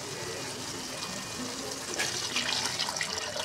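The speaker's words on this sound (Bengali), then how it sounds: "এখন আমি পরিমাণ মতো জল দিয়ে দিয়েছি।" Water is poured into a simmering rohu fish curry in a pan. A steady hiss and splash grow louder near the end of the short pour, with no talking.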